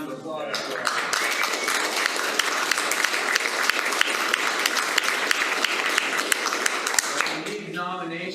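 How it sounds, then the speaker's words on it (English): Sustained audience applause fills a club meeting room, dense and steady clapping beginning quickly and running several seconds before tapering off at the end. "let's give a round of applause for"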